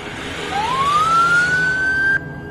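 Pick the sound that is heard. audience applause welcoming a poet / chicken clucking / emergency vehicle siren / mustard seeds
emergency vehicle siren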